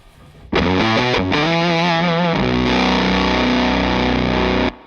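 An electric guitar runs through a Pedal Pawn fuzz pedal with the fuzz turned up. After a quiet start it plays loud, thick, saturated notes that slide into a long sustained chord, which rings alone before cutting off sharply.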